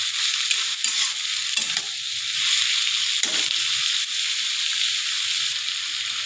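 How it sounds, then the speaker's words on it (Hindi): Onions fry in a pan with a steady, bright sizzle that holds throughout, broken by a few soft scrapes of stirring. "प्याज को थोड़ा हम लोग भूनेंगे अच्छे से।"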